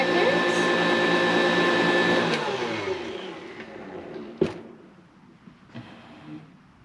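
An electric mixer whirs loudly and steadily as it stirs royal icing for cookies, then shuts off and winds down, leaving a few faint knocks and quiet room sound.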